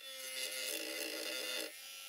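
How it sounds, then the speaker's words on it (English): A small drum sander spinning in a Minicraft mini drill deburrs the inside edge of a tube for a vintage model steam boat, giving a steady high whine with a rough grinding buzz for under two seconds before easing to an idle hum. "in this clip I'm using a small drum sander in my mini drill just to deburr the inside edge"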